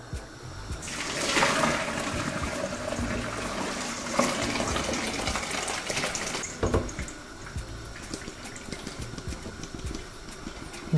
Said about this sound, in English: let's drain the water now.